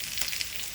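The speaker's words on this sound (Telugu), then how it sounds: "ఉల్లిపాయలు, పచ్చిమిర్చి ముక్కలు కట్ చేసుకొని వేసుకోండి." Chopped onions and green chillies frying in a pan for a brinjal, sweet potato and tomato curry, giving a steady quiet hiss with a few soft crackles and no voices.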